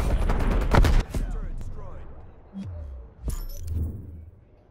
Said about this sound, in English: bomb strike incoming.